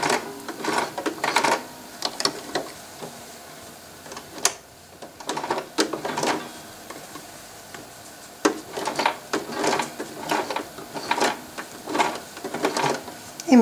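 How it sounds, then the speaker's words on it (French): A sewing machine stitches the side seam of a sleeveless garment in bursts of rapid mechanical clatter, pausing briefly between runs, with a voice speaking intermittently over the stitching. "Et nous allons commencer à coudre."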